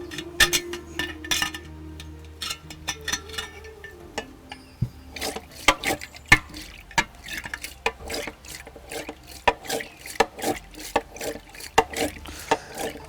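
Curd mixed with water is churned by hand with a wooden churner (mathni), giving repeated knocking clicks and sloshing that turn into a steady rhythmic series of sharp taps, close and moderately loud with no talk.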